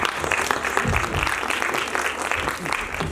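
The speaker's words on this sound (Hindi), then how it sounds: "एक बार फिर इनका मनोबल बढ़ाएं अपनी तालियों के द्वारा" Audience applause at the inaugural session of a startup expo, honoring young music performers, dense continuous clapping at close range with some crowd voices mixed in.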